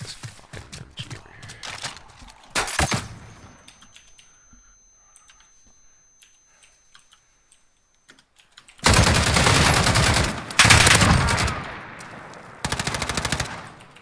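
Loud, close bursts of machine gun fire in Call of Duty Modern Warfare 2019, with sustained automatic volleys after a quieter stretch of scattered game sounds and clicks.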